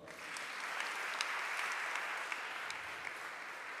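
A church congregation applauds in a steady, moderately distant wash of clapping, with occasional sharper claps standing out from the crowd.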